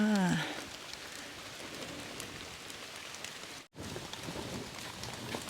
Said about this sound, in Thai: ฝนตกใส่นะคะ